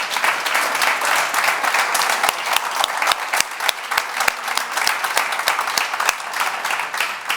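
Sustained audience applause at a Spanish-language political summit panel, a dense, steady wash of many hands clapping with sharp individual claps standing out, loud and continuous throughout.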